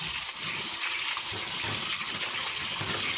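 Pickled mangoes are rinsed clean in water, giving a steady, continuous rush and splash of running water close by, with no talking.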